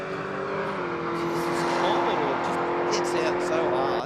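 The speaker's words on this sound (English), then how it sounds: "we got this Mazda wagon for 6100 Racing taking on Headache" A Mazda wagon launches down a drag strip, engine note holding a strong steady tone that rises slightly, loud and close, with commentary talking over the run.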